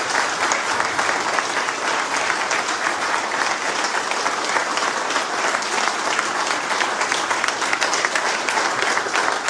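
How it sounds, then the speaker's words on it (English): Sustained, loud audience applause for General Wesley Clark at an Albanian American community gathering in Staten Island, a thick, even roar of many clapping hands continuing for nearly ten seconds. "So let's give him another round of applause."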